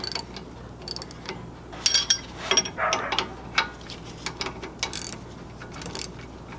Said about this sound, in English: Once again, we're using our 15mm wrench and 13mm socket.